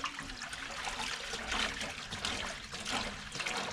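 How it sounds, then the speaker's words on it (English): Hot tap water pours into the tank of an 8-gallon (30 L) ultrasonic cleaner, a steady close splashing and trickling wash that continues evenly throughout. "So let's pour our hot tap water in."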